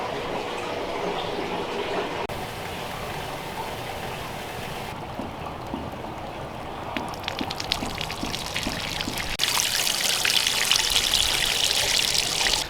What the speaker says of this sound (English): I'm just running the hose into the bucket with all that sand in there